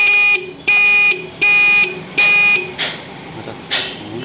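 A repaired motorcycle horn gives four loud, buzzing blasts of about half a second each at a steady pace. Fainter knocks and handling noises follow.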